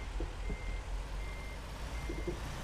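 A truck in a driving game backs up, its reversing alarm giving three evenly spaced beeps over a low engine rumble, faint and steady with no voices.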